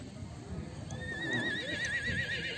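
A horse neighs loudly at a horse market in Trùng Khánh, Cao Bằng, its whinny rising and wavering for about two seconds over a busy market hubbub with people talking and hooves clopping.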